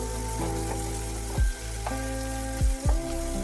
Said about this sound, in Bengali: এইভাবে উচ্ছেটা একটু ভেজে নেওয়ার পর